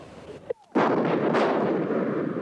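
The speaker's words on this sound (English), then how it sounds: "The 18th Army Artillery invaded Iraq as well, sending round after round into enemy positions." An artillery gun fires during the 1991 Iraq ground war, a single heavy boom followed by a long rumbling roar, loud and close.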